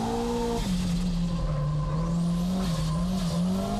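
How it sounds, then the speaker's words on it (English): Nissan S15 race car at Fuji accelerating hard out of a corner, its loud engine note rising and falling steadily with tire squeal throughout, close and dominant with no talk. "S15 fighting out of the corner with excess power"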